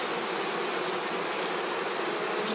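Package honeybees buzzing while being hived in Donegal, a dense, steady swarm drone filling the space at constant loudness, close and unbroken, with no voices.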